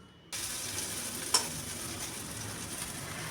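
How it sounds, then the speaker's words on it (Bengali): Eggplant slices coated in salt and turmeric frying in hot oil, a steady close sizzle with a brief sharp crackle near the start, no voices. "বেশ লাল করে ভেজে নিচ্ছি বেগুন"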